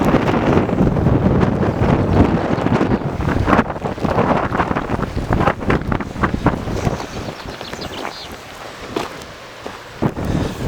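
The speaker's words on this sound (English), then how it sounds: "But it's a lot windier today than it was the other day." Strong gusty wind buffets a camera out on the open Dartmoor moors, a loud rough rumbling roar that persists throughout with irregular bursts and buffeting knocks, easing slightly toward the end.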